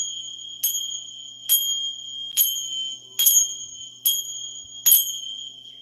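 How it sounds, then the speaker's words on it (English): Sacred chimes ring clearly six times at a steady, even pace, each bright metallic strike leaving a sustained shimmering tone that lingers until the next. "we're going to use the sacred chimes to clear the energy"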